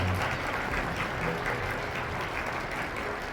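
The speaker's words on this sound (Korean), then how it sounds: "여러큰 박수 부탁드립니다." A wedding crowd claps steadily, continuous applause heard from a moderate distance with no pauses.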